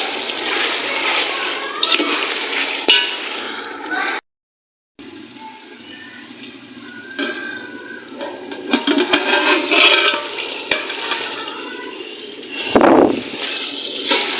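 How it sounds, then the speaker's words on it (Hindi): Water poured into a pan of frying chicken with Shimla mirch masala gives a rushing splash and sloshing, then the pan settles into a continuous hiss while a voice talks over the cooking. "थोड़ा सा इसके अंदर पानी भी शामिल कर देते हैं।"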